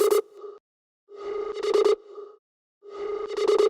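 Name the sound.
synth sound with soft clipping effect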